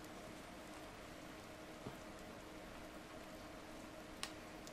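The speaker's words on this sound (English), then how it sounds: "It's raining." Rain falls in the Persona 4 video game, a steady soft hiss of a continuous downpour with a couple of faint tick-like drips, low and even throughout, with no voices.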